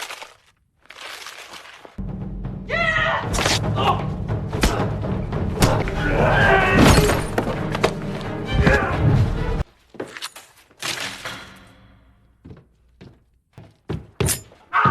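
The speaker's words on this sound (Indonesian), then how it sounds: "Soyun pun menghajar mereka bertiga dengan brutal dan penuh greget hingga membuat ketiga psikopat tersebut tak sadarkan diri." Heavy blows land in a brutal fight between one person and three attackers, a dense run of loud thuds, cracks and crunches with grunting voices, then sparser hits and pauses.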